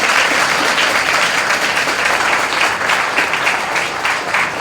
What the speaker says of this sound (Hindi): एक बार जोरदार ताली प्रभु के वचन के लिए।